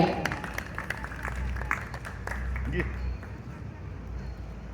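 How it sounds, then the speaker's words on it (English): A crowd at an old-time car parade at a fair claps for the owner of a 1957 car, with scattered, fairly close hand claps over murmuring voices and outdoor background noise. "Let's give him a nice round of applause."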